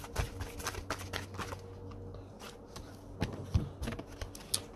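Charades cards being shuffled by hand, quiet crisp riffles and flicks in short bursts with soft thumps, close and alone without talk.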